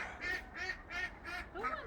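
Ducks being herded back toward a bird cage quack four times in an even, steady rhythm, each call a short nasal honk, moderately faint against a quiet background.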